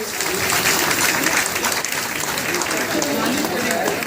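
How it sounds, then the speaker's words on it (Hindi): Loud, continuous applause fills an auditorium at a cashless card distribution ceremony for school cooks, held by the basic education department in Prayagraj. It is a dense wash of clapping with a voice speaking over it throughout. "एक बार जोरदार तालियां पूरे सभागार से"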